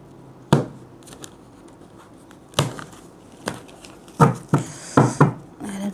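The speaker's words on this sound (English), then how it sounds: "Have the shuffle and we will read the cards, darlings." Tarot cards being shuffled by hand in sharp irregular bursts, a few soft riffles and snaps spaced apart, close and fairly loud over a quiet room.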